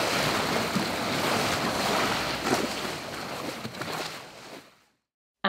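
Ocean waves roll and wash steadily in a storybook sound effect, with a windy, surging rush that swells a few times before fading out to silence near the end.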